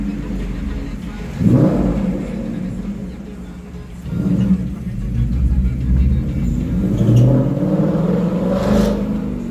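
Ford Mustang GT engine revving hard in three distinct blips, each rising into a loud growl and settling back to a rumbling idle, with people talking nearby.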